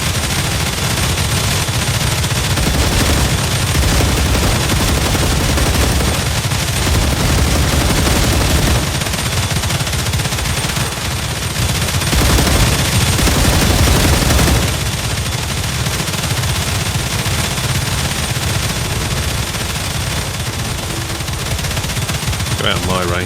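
Sustained automatic gunfire from the sci-fi video game StarRupture, loud and dense for the whole stretch, with brief swells and short gaps as bursts run together, under occasional speech.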